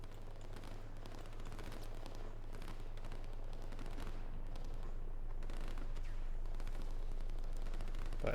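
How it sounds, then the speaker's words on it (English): Torpedo blasts from submarines in the strategy game Line War go off as a dense, continuous rumble of overlapping explosions with a steady low hum underneath, busy and sustained throughout, without talk. "You know something is not right when you hear those torpedoes going off."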